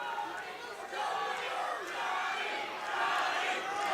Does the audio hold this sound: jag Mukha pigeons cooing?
no